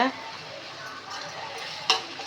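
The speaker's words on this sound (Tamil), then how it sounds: "இப்போ போட்டு நல்லா வதக்கி விடுங்க" Prawn thokku masala is sautéed and stirred in a pan, giving a soft, close sizzle with scraping strokes of the spoon and a sharp clink near the end, and a voice is faintly present.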